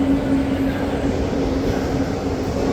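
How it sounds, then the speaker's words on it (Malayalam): A train at a railway station platform in Kerala gives a steady, continuous rumble with a faint hum, holding even and fairly loud throughout without voices. "ഞങ്ങളിപ്പോൾ സ്റ്റേഷനിൽ എത്തി"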